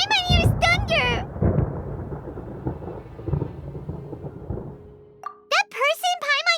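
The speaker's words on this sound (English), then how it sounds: "Paimon hears thunder!" Thunder rolls through a Genshin Impact scene, a long low rumble with several swells that fades out, bracketed by a character's high-pitched voice speaking before and after.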